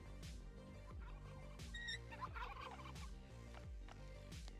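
Video game turkeys gobble in a rapid, repeated rattling burst, several loud gobbles layered over a steady low game soundtrack, with no talking.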